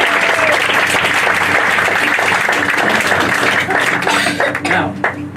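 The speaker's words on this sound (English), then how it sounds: "Please give Maddie a round of applause for being such a good helper." An audience claps for a young helper, sustained dense applause filling the room and tapering off near the end, with a few coughs and murmurs mixed in.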